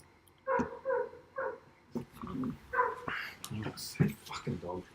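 A pet dog barks in short bursts around a home office, mixed in with a person talking nearby.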